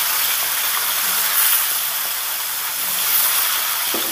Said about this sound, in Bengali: 5টা মাছ আমি একবারে ভেজে নিচ্ছি।